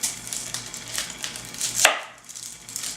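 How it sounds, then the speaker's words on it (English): An onion being cut with a kitchen knife on a board: a quick series of crisp, close chops follows a steady rhythm, with one sharper, louder cut near the end, and no voices. "When cutting an onion, always make sure that you leave the root end intact."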